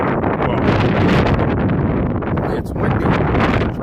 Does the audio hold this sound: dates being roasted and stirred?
no